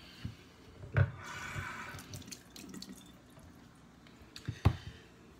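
Running water rinses a natural whetstone in a sink, a steady tap flow with two sharp splashy bursts near the start and end.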